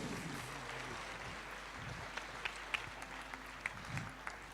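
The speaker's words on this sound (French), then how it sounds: "Super, on peut l'applaudir très très fort." An audience at a Compiègne beauty pageant election applauds, a sustained crowd clapping with some scattered sharper claps standing out, while a voice murmurs faintly underneath.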